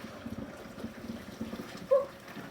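Hot pasta water poured from a heavy pot into a kitchen sink to drain, a soft continuous gushing and splashing with a brief louder surge near the end, fairly quiet and close.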